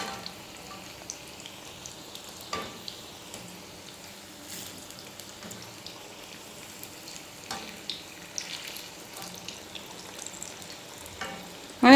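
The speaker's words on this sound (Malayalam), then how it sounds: "ഇങ്ങനെ 2-3 വട്ടം നമ്മളൊന്ന് തിരിച്ചിട്ട് കൊടുത്ത് വേണം വറുത്തെടുക്കാനായിട്ട്" Onion vada frying in hot oil in a tattukada-style home kitchen, a steady crackling sizzle throughout with occasional sharper pops and spoon clinks as the fritters are turned, no talking.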